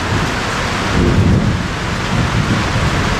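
A thunderstorm rumbles around a metal tin shop, with dense, loud rain drumming steadily on the surface and low thunder swelling midway through. There is no talking.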